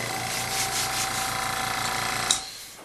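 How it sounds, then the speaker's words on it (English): An airbrush air compressor runs with a steady, dense mechanical whirr and rhythmic pulsing as it fills its tank, then cuts off abruptly with a short click near the end, leaving quiet. "I'm going to turn on my compressor."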